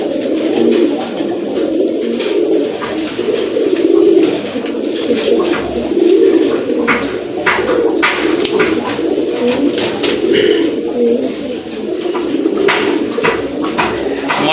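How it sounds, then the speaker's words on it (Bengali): A pair of large Sirazi pigeons coo steadily and close by, a continuous low warbling murmur with overlapping soft calls throughout, and no voices. "প্রথমে আপনারা দেখতে পাচ্ছেন একজোড়া সিরাজি কবুতর, অনেক বড় সাইজের কবুতর"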